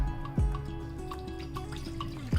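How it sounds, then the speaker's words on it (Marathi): Mint and chili water for Mumbai-style pani puri being poured through a fine kitchen sieve, giving a few soft drips and trickles with occasional small splashes, close and fairly quiet. "हे पाणी आहे ना परत एका बारीक गाळणीने आपण गाळून घेऊया."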